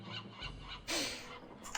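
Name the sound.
seagulls calling in the video game Escape from Monkey Island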